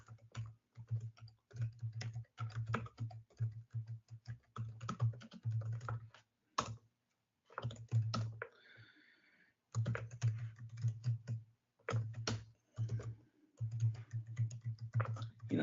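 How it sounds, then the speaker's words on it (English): Fingers type on a computer keyboard during a webinar setup, bursts of quick key clicks separated by short pauses, close and clear with a steady low hum underneath. "typing passwords during a webinar is just about the hardest thing in the world to do"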